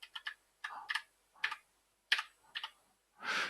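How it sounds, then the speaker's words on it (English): Computer keyboard arrow keys are pressed in a quiet room: a handful of crisp, close clicks in small uneven bursts with short silences between them, ending in a slightly longer clatter. "I'm going to use the arrow keys to move them around."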